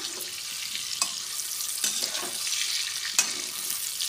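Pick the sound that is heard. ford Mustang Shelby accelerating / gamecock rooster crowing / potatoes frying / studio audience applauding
potatoes frying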